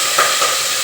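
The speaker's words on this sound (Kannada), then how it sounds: "ಇವಾಗ ನಾನು ಇದು ಒಗ್ಗರಣೆ ಹಾಕ್ತಾ ಇದ್ದೀನಿ" Spices for a tempering hitting hot oil in a pan, a loud, steady close sizzle with a couple of brief spatter bursts.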